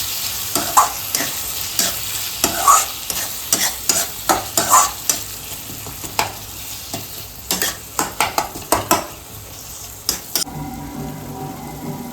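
Tomatoes fry and sizzle in a pan for a paneer curry while a spoon stirs and scrapes in repeated strokes, close and moderately loud, with the sizzle easing near the end.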